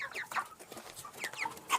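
Several 41-day-old broiler chickens, hens and one rooster, cluck and chirp in short, scattered bursts, fairly close, with no talking.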